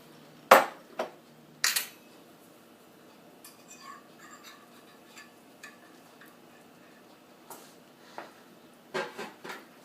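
Zucchini being shifted from one pan to another in a home kitchen: a few sharp clatters and scrapes of pan and utensil near the start and end, with softer light clinks and shuffling in between.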